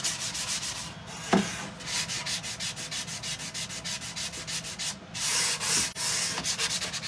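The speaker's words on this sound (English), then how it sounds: "So I'm just giving it just a quick little sand." An unfinished craft-store wooden tray with handles being sanded by hand, rhythmic back-and-forth scratchy strokes close up, steady and repeated with a few brief pauses and no talking.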